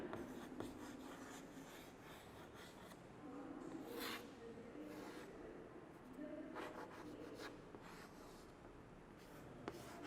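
A pen or pencil scratches across paper while drawing a plant on a classroom sheet, faint, intermittent rubbing strokes in short bursts with quiet room noise around them.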